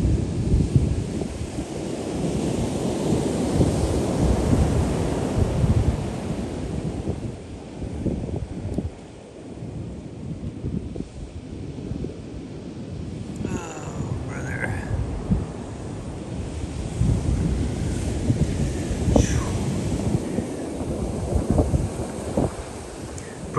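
Ocean waves and wind on a beach, with continuous loud rumbling surf and buffeting wind noise on the microphone, and occasional faint voices.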